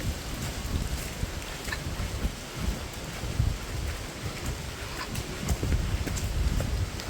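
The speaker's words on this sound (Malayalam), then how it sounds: "നല്ല കാറ്റും ഉണ്ട് കേട്ടോ." Gusty wind on a misty forest trekking trail at Kurinjal in Karnataka, a steady rushing hiss with rumbling low buffets against the microphone that swell and ease, almost rain-like.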